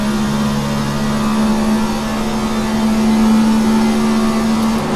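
A NASCAR Cup car in the iRacing game at Las Vegas Motor Speedway, its engine droning loud and steady in fifth gear with a constant high whine and no pauses.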